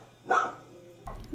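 A single dog barks once at an animal shelter in Indiana, a short mid-level yelp standing alone in a quiet room, followed by a faint second sound at the end.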